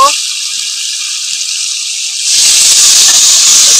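Marinated chicken goes into a hot pan for a Bengali onion chicken curry, a steady hiss swelling into a louder, dense sizzle partway through that holds to the end.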